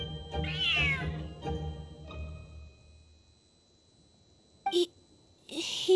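A cat in a video game meows loudly and repeatedly with drawn-out, wavering cries, then quiets before short electronic beeps and another burst of cat sound.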